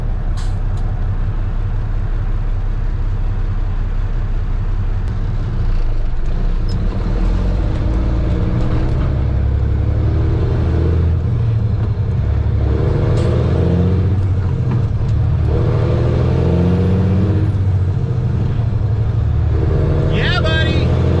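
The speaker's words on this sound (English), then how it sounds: "There's a lot of traffic." Steady heavy road traffic with deep engine rumble from passing trucks and cars, continuous and loud, with some people talking over it.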